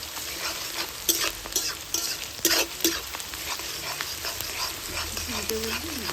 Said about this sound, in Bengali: পেঁয়াজটা লাল লাল করে ভাজা হয়েছে।